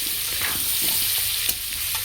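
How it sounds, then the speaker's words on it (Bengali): Potatoes fry in hot oil with turmeric, a steady close sizzle under occasional stirring scrapes and soft clicks, with no talking. "আলুটাকে ভালো করে লাল লাল করে ভেজে নেব।"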